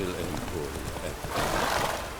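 A horse gallops in The Witcher 3: Wild Hunt, its hooves drumming steadily over a continuous bed of game sound, with voices speaking over the top.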